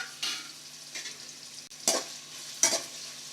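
Sliced onion, curry leaves and green chillies frying in a pan, a steady sizzle with a few sharp stirring scrapes of a spoon against the pan; no voices.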